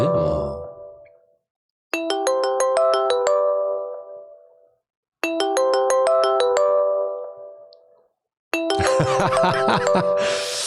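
A telephone rings out unanswered, giving repeated bright chiming ringtone phrases separated by short pauses, loud and clear, with some noisier sound mixed into the final ring.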